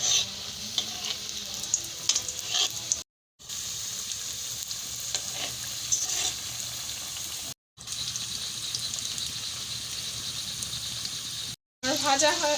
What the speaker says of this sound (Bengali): এখন আমি এটা তেলে ছেড়ে দিব, তবে সাবধানে দিতে হবে। আপনারা যে কোনো তেল ইউজ করতে পারবেন, আমি এখানে সরিষার তেল দিচ্ছি।